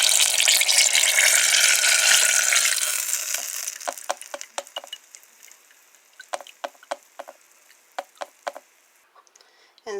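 Strawberries fry in hot oil in a frying pan, a loud sizzle that fades after a few seconds, followed by a series of sharp knocks and taps.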